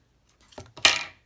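Scissors snip a paper craft piece in half, heard as a few faint metallic clicks followed by one sharp, close cut that rings briefly and fades.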